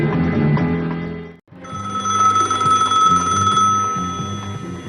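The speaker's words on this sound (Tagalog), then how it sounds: "Telepono." A telephone rings with a repeated electronic bell tone. It is preceded by brief music-like sounds, then a short gap before the steady, prominent ringing fills the rest of the clip.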